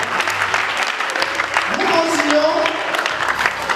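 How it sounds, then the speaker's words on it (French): Audience clapping at a fourth anniversary ceremony, a continuous wash of hand claps running throughout, mixed with speech and some voices on top. "Alors, on peut applaudir très fort pour vous."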